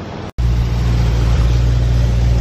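The V8 in a BMW M3 runs nearby in a dense, steady drone, with a split-second dropout near the start before the engine sound carries on evenly, no talk.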